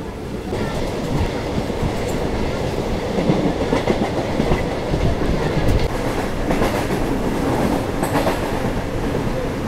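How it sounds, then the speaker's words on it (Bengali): A Howrah-Digha local train leaving Raghunathbari station rolls along the rails with a loud, steady rumble and rhythmic clatter of wheels over joints, heard from inside a moving carriage. "1 মিনিটে হল্ট দিয়ে আমার ট্রেন ছেড়ে দিল রঘুনাথ বাড়ি রেলওয়ে স্টেশন থেকে"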